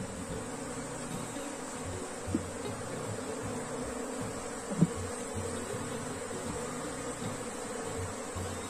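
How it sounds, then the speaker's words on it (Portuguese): Honey bees from a small, lagging swarm buzz around their hive in a steady, continuous hum, with a couple of brief louder knocks standing out against the drone. "Tem bastante abelha?"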